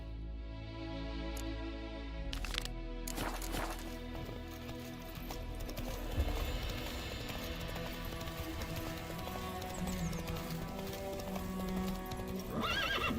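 Roach, the horse in The Witcher 3, gallops with a quick, clear hoofbeat rhythm, and a whinny rises out of the game music and ambience, which stay busy around the sound throughout.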